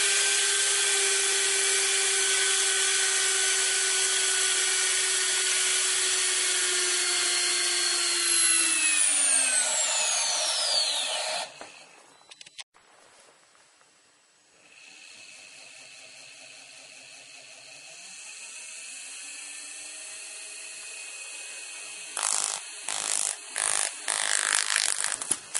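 A bare induction motor spun to about 20,000 RPM screams with a loud, high whine whose pitch falls as it winds down, cuts out briefly, then returns as a softer hum before sharp bursts near the end.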